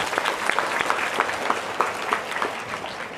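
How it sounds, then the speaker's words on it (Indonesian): A crowd gathered to welcome KH Yusuf Mansur at a girls' Quran memorization boarding school applauds a child, with steady dense clapping and a few sharper claps standing out, moderately near. "Tepuk tangan buat Afa."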